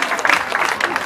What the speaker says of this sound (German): Großer Applaus für Vitali, der Zauberkünstler.